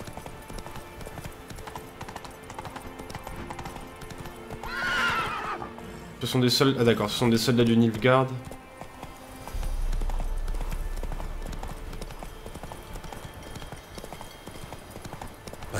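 Horse hooves clip-clop rhythmically as a rider crosses a field in The Witcher 3: Wild Hunt, with a horse neighing. Close and steady, the hoofbeats run beneath someone talking in French.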